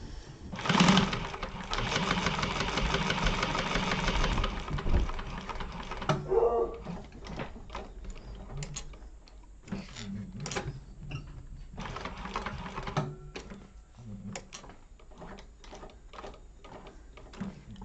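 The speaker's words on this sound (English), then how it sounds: "Okay, top stitching." A sewing machine running a line of top stitching opens with a steady, fast mechanical whir for several seconds, then gives way to intermittent clicks and short bursts of quieter handling noise.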